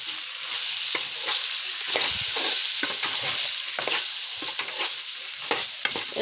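Okra pieces sizzling and frying in a pan, a steady broadband hiss with repeated scrapes and stirring clicks, close and fairly loud, with no voices.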